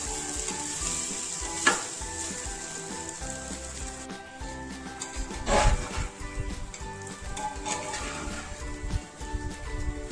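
Rice frying in a pressure cooker for basanti pulao, a steady close sizzle with scraping stirs and a couple of louder metallic knocks against the pot, no talking.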